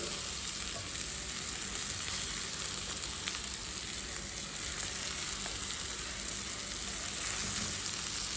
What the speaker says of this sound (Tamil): வெங்காயம் வதங்கினதுக்கப்புறமா மசாலாலாம் போட்டாச்சு இப்போ முட்டையை வந்து ஒன்று ஒன்றா வச்சிடலாம்